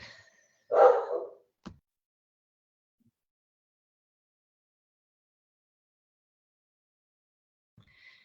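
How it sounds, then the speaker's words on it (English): Dog giving one short, sharp bark near the start, followed by a faint click and then near silence, with a tiny sound at the very end. "Silly dog."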